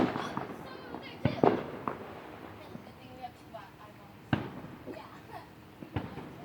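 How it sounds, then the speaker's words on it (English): Fireworks pop and crack outdoors during a family gathering, several sharp bursts scattered irregularly with a couple of louder booms, while people chatter and laugh around them. "the fireworks are over here"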